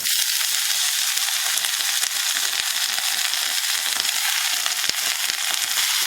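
A handful of fresh mint leaves sautéing in a pan crackle and spit in a loud, dense, continuous sizzle close by, with no voices.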